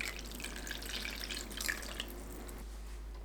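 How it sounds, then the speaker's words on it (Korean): Kelp broth poured into a pot with anchovies, zucchini and onion, a steady splashing liquid stream with light trickles, close and continuous. "다시마 우린물 400ml 넣어주세요."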